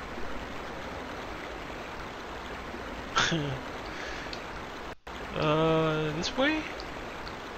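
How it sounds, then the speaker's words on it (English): Steady rushing water from a stream in Suikoden 2 runs throughout at moderate level, with brief speech breaking in twice over it. "First, we'll have to stop the flow of water."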